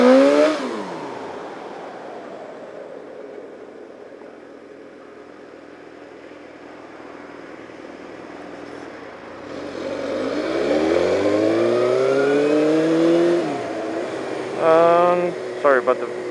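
Aprilia motorcycle engine during a wheelie on a city street, a steady drone that rises into a strong revving surge with sweeping pitch changes, then a few sharp revs near the end; a voice talks early on.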